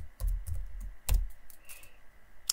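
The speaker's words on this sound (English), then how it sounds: "Now here I will be typing the name of the program." Computer keyboard typing while entering a program name in a development environment, a few soft irregular key clicks and thumps, close and quiet.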